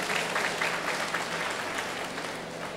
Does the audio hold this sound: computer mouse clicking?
no